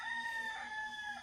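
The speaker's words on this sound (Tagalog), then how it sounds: "na-miss ko ang ganitong huni ng mga ibon tuwing umaga" A rooster crows at close range outside at dawn, a sustained call with strong harmonic tones over a soft bed of ambient morning birdsong, with no voices.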